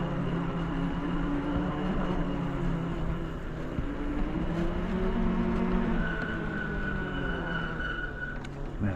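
Electric bike with a 5T hub motor on an 18-inch rim riding along, giving a loud, steady whirring drone with a rising whine, continuous and close throughout.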